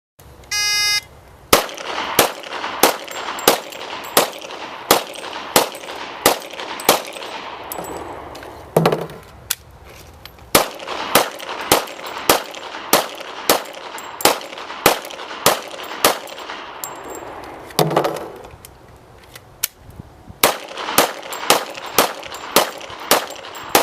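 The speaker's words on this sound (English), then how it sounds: "Now Christy will demonstrate again shooting 30 rounds, this time in 3 10-round magazines." A sheriff's demonstration of a shooter firing 30 rounds from three 10-round magazines: evenly spaced, sharp loud gunshots in steady rhythm, broken by two short pauses with clattering magazine changes, outdoors with no talk.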